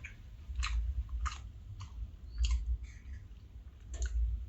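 Someone eats two-layer cake alongside coffee, soft close chewing with a handful of moist clicking bites spaced through a quiet room.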